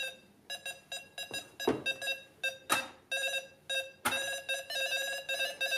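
A handheld low-frequency electromagnetic wave detector beeps near switched-on lamps in a bathroom, a close, rapid, irregular run of sharp electronic bleeps with no pauses longer than a moment.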